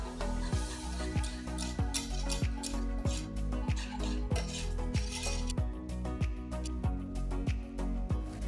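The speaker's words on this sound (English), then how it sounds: "Use a whisk to mix the chocolate ganache." A whisk beating chocolate ganache and cocoa powder in a metal pan over low flame, producing a steady, quick rhythm of light metallic clinks and taps, close and fairly quiet, without talk.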